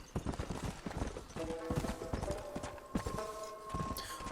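Horse hooves clip-clop steadily in Red Dead Redemption: Undead Nightmare, a brisk, continuous gait with a few sustained game tones layered over it.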